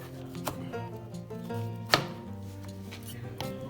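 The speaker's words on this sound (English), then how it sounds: "So just cut down lengthways" A knife cuts a vegetable into small cubes on a cutting board for a lentil dahl. A few sharp, close chops land at uneven intervals, one louder than the rest, over quiet background music.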